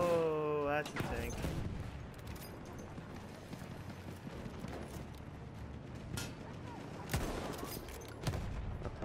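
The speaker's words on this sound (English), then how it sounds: "Machine gun over there." Machine-gun fire in the video game Battlefield 1 forms a dense, continuous rattle of rapid shots throughout. Other gunfire and battle noise blend in, and a player talks over the game.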